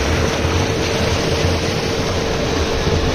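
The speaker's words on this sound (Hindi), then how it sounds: "अगर आप ट्यूबवेल के पानी का प्रेशर चेक करें तो पानी का प्रेशर बहुत ज़्यादा है, कितनी स्पीड से पानी आ रहा है देख सकते हैं आप लोग।" High-pressure water gushes from a tubewell beside a rice field in a loud, steady, broadband roar that stays constant throughout, with no voices.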